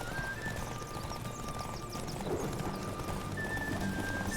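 A horse gallops in The Witcher 3 while carrying heavy plate armor, its hooves a quiet, steady clip-clop rhythm under wind and game ambience.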